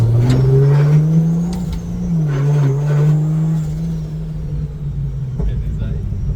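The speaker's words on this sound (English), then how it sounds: "Car coming?" A 2JZ-powered Honda Odyssey drift car approaches with a loud engine drone that rises and dips as it revs, then fades away while people talk nearby.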